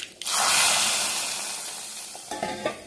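A sharp burst of sizzling and spluttering as mustard seeds hit hot oil for sambar, the crackle fading gradually with a few pops near the end.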